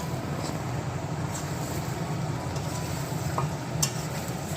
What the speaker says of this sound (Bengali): চিকেন কষা চলছে ঘেটে দে একটু